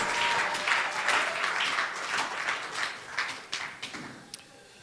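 A church congregation claps in praise: a dense burst of applause that thins into scattered, separate claps before fading out.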